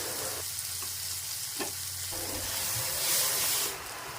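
Ground turmeric, cumin, coriander and chili are stirred through hot oil in a pan, producing a steady close sizzle with light scraping and a brief swell of hissing toward the end.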